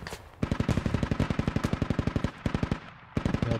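Machine gun fire in an infantry combat video game, set in urban Logar Valley: a long run of rapid, evenly spaced loud bursts, a brief pause, then the firing resumes up close.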